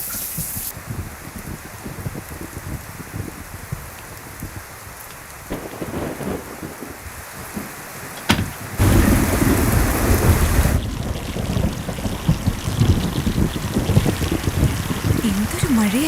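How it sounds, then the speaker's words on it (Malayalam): Heavy rain pours steadily, with a sharp thunder crack midway followed by a louder, denser downpour; faint voices are heard briefly in the background. "എന്തൊരു മഴയാ ഇത്."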